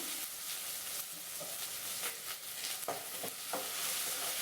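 Onions and green chillies sauté in oil in a pan, a faint, steady sizzle under occasional soft stirring scrapes, heard close with no voices.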